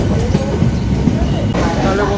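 The Deoghar–Howrah Mayurakshi Express rumbles and rattles steadily on the rails, with a continuous loud clatter and faint voices in the background.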